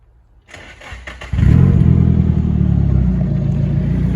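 A Nissan Silvia cranks briefly with a few starter clicks, then its engine catches and settles into a loud, steady idle close by.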